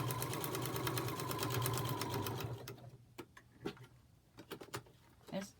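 A sewing machine runs fast and steadily while stitching a foundation paper-pieced hummingbird quilt pattern, loud and close, then stops and gives way to scattered clicks and handling knocks.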